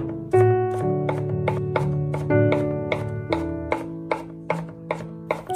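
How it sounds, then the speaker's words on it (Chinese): A knife minces sliced garlic on a cutting board while preparing green beans, with a quick series of sharp chopping strikes at a steady pace under continuous background music. "再改刀把它剁成蒜末"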